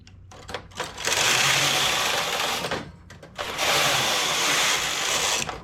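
A domestic knitting machine carriage slides across in two passes knitting rows of a baby blanket, each pass a loud rasping, clattering sweep, with short clicks in between.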